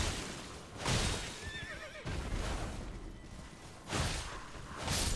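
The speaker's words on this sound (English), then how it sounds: "Let's stun lock him before he can hit me off his horse." A horse neighs in the video game Elden Ring, a wavering whinny rising and falling in the middle of the passage, framed by whooshing swings and faint hoof clops, with no voices.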